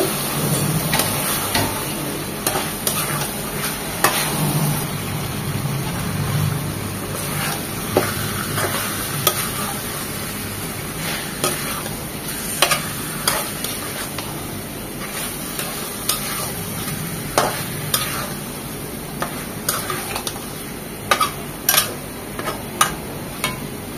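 Beef pieces frying with cooked spice paste in a pot, a steady sizzling hiss throughout with scattered clicks and scrapes of stirring at uneven intervals.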